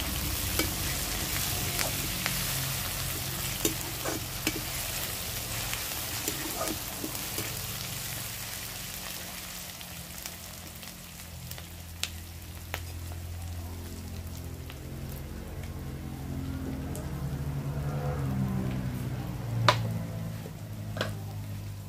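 Onions frying in a pan, a continuous close sizzle with occasional stirring scrapes and clicks, steady throughout with no voices.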